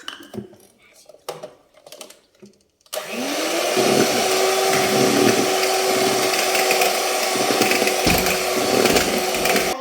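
An electric hand mixer beats cake batter with vanilla essence and milk for a Boost cake, starting after some clattering of bowls and utensils, then a loud, steady whirring drone close by that runs without a break.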